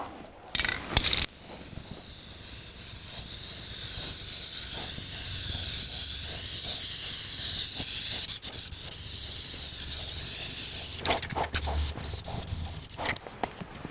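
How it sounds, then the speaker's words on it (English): Primer sprayed onto a 1984 Jeep CJ7 engine under restoration, a steady loud hiss from the can running unbroken for about ten seconds, framed by brief clicks and rattles at the start and end. "Here we go with 3 coats of primer."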